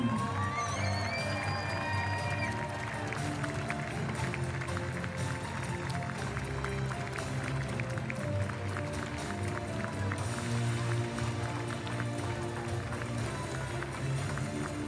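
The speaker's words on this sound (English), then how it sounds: "A big applause for New Zealand" Stadium crowd at a women's field hockey Nations Cup final ceremony applauding the New Zealand team, steady sustained clapping and cheering filling the space, with background voices and shouts.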